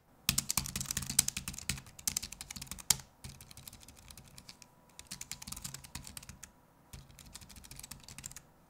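Rapid typing on a small foldable Bluetooth keyboard, light quick clicks in bursts separated by short pauses, close and fairly quiet.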